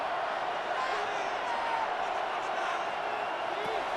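NFL stadium crowd at a Vikings versus Ravens game on third down, a dense continuous roar heard under a commentator's voice.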